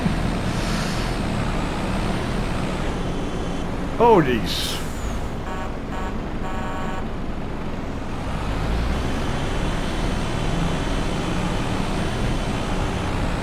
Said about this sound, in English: the traffic on this map is the worst